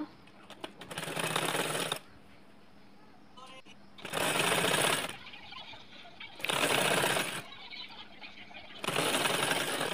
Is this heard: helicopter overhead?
no